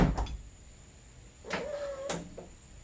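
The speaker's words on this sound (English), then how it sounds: "And then close the door." A 2007 Jeep JK Rubicon door swings and shuts with a solid thump, followed by a brief creak and a second lighter knock, heard up close with no talking.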